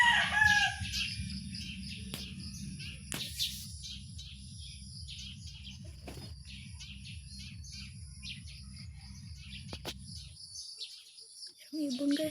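A rooster crows and other birds call faintly over a steady rhythmic mechanical hum, with no talking for most of the stretch.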